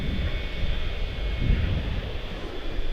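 An Embraer 175 long-range regional jet departing Charlotte-Douglas International gives a steady, loud, broadband engine roar with wind rumble, continuous for the whole stretch and heard alone.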